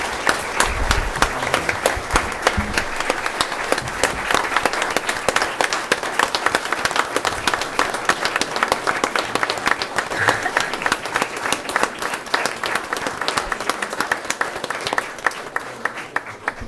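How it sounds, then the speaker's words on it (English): An audience at a school board meeting gives Bryson a round of applause, steady dense clapping throughout with a few louder individual claps and faint crowd murmur. "So please give Bryson a round of applause"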